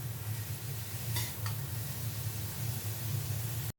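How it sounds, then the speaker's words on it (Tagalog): Zucchini and garlic frying in oil in a pan, a steady sizzle with a couple of brief utensil scrapes as the vegetables are stirred, close and without talk. "Ilagay natin yung ating zucchini. Haluin hanggang maluto ito."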